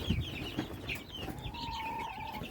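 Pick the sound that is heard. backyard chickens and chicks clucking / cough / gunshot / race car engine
backyard chickens and chicks clucking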